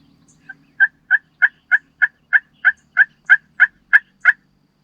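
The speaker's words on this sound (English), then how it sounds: "We just had about 3 or 4 gobble directly to my east." Rio Grande wild turkeys in the Texas Hill Country gobble about a dozen times in a steady, evenly spaced series, loud and fairly close against a quiet outdoor background.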